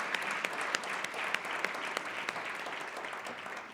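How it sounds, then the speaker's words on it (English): Audience applause for a solar decathlon student team at a closing ceremony, steady crowd clapping throughout with sharp individual claps standing out, fairly distant and moderately loud. "could we give them a big applause here, because it's really a huge accomplishment"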